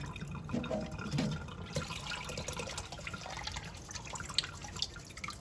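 Red ant eggs mixed with bits of stone and sand being rinsed clean in water, heard as close, gentle sloshing and dripping, with a few small splashes early on and softer trickling afterward.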